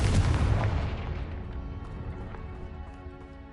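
A Confringo spell explosion in the Hogwarts Legacy video game, one loud deep boom at the start that rumbles and fades slowly over several seconds.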